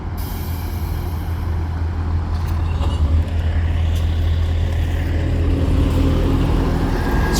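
A truck rolling past near a railway station, a steady heavy low engine rumble that stays loud and close throughout, with a brief hiss near the start and no talking.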